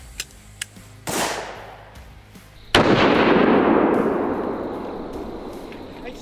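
Two 9mm gunshots are fired into a synthetic gel block, each a sharp, loud bang with a long rolling echo. The second shot is louder and closer, and a couple of small clicks come first.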